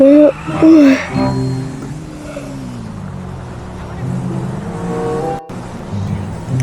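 A PCJ 600 motorcycle ridden in GTA V gives a steady engine drone with a few rising, revving tones that sit under music or game sound, with a short cut of silence near the end.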